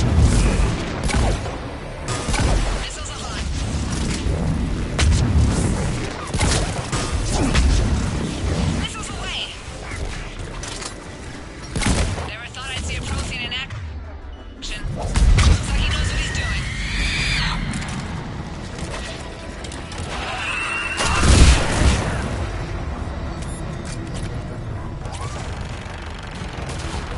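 Missile launches and explosions tear through a battle in Mass Effect 3, a continuous dense roar of blasts and rumbling booms with louder bursts near the middle and end, mixed with game voices and music.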